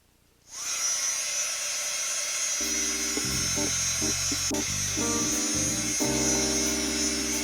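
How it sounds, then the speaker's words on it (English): A hair dryer starts suddenly, then blows continuously with a steady, high-pitched electric whir, with faint tonal hum shifting underneath. "I'm going to take my dryer and dry it off a little bit"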